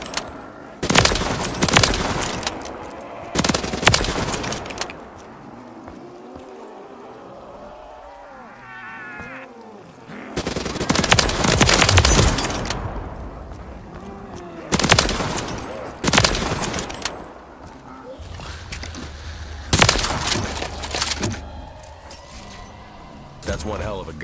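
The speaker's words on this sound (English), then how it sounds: "Some of these guns, they're like miniature cannons." Gunfire from weapons in Black Ops 3 Zombies on the modded Shadows of Evil map comes in several loud, sharp bursts spread across the stretch, separated by quieter game sounds and effects.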